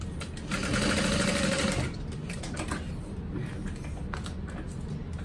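A sewing machine runs in one fast burst lasting about a second and a half while stitching close to the curved edge of a crossbody bag. A faint, intermittent clatter of handling follows it.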